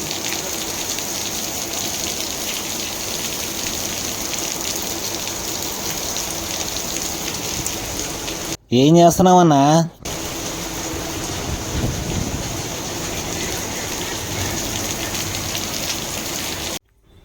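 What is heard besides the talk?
rain falling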